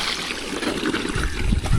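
Water runs and trickles out of an overturned container at a tiled tub area, a close, steady gurgling flow that grows louder toward the end.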